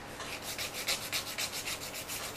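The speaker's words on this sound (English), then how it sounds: "always file straight across as well" A professional nail file is drawn straight across a toenail in quick, rhythmic rasping strokes, close and steady, with no talking.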